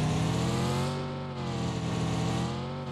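A car engine in the PUBG Mobile video game hums loudly and steadily while driving, with a constant, slightly wavering drone across the whole stretch.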